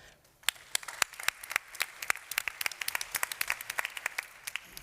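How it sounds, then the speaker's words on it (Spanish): An audience at a plenary session of a national aggregates congress claps to welcome a speaker. A few scattered claps begin, then build into irregular, separate hand claps from a small crowd. "Fuerte aplauso para él."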